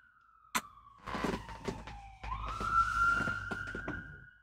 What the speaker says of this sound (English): Sirens outside my window.